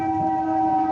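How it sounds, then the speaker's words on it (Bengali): A train approaching in the distance, with a steady sustained horn tone holding over a low rumble for about a second, fairly loud and with no voices. "ওই দেখুন দূরে একটা ট্রেন আসছে"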